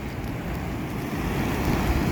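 Strong sea waves surge at high tide where a river estuary meets the sea, a continuous loud roar of surf blended with wind buffeting the microphone.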